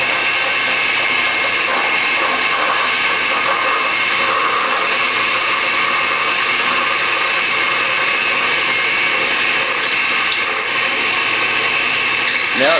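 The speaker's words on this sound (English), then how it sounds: "I'm going to be drilling 2 holes from this end and 1 from the other one" A power drill whirs steadily and loudly at close range, drilling holes in a camp knife, a continuous high-pitched grinding that runs without pause throughout.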